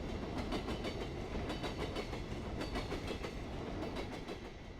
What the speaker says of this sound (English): Train was loud.